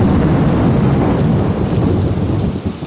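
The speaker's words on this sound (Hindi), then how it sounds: "वो अपने घोंसले में सिकुड़ कर बैठी थी और बारिश की तेज आवाज सुन रही थी" Heavy rain pours down in a dense, continuous roar while deep thunder rumbles through it, loud and enveloping, fading slightly at the end.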